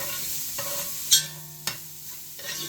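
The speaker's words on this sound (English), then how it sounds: "This is 2 small yellow onions. And we're going to cook so those are softened up a bit." Two small yellow onions frying in a pan with a steady low sizzle, broken by a few sharp clinks and scrapes of stirring, one brighter knock standing out near the middle.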